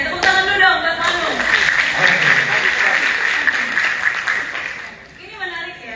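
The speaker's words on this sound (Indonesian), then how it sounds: "Oke, tepuk tangan dulu dong, buat Manu." An audience claps steadily for several seconds at an event, with a voice speaking over the applause before it fades.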